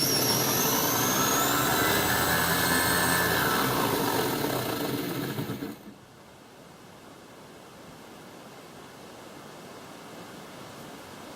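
A drag-built VW Bug engine runs on a dyno, a loud, dense roar held steady for about six seconds before it cuts off abruptly to a low residual hum.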